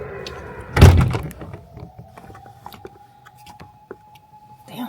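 A car's power window closes: a heavy thunk, then a steady electric motor whine runs for about three seconds before stopping, fairly close and clear, with no one talking.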